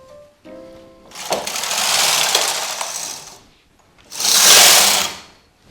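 Domestic knitting machine carriage sliding along its needle bed as stitches are stripped off, two long raspy whooshing passes with a faint tone and a few clicks before them.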